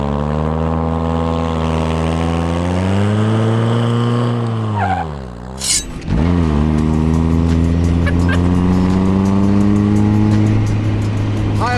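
A loud Mazda MX-5 with a raucous aftermarket exhaust revs and drives, its engine drone climbing and falling through gear changes, dropping briefly on a lift-off near the middle before roaring back up and holding a steady, booming note.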